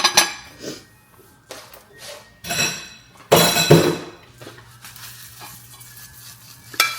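Eggs fry in a pan, with bursts of crackling sizzle that rise and fall, alongside clinks and knocks of cookware and a few sharp taps, close by and with no speech.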